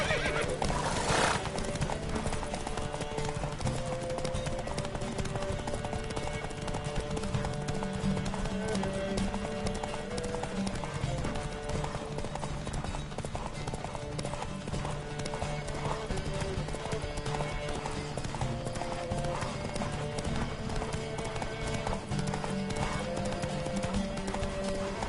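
Horse hooves clip-clopping at a gallop with repeated neighs and whinnies in a PS4 riding game, continuous and fairly close, with faint voices briefly underneath.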